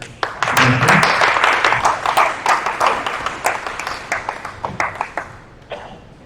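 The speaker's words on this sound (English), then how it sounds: "Another round of applause for" A round of clapping from an audience, lively at first and then thinning into scattered individual claps before fading out.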